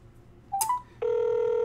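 A telephone call is placed: a couple of short electronic dialing tones are followed by a loud, steady ringing tone, with no talking.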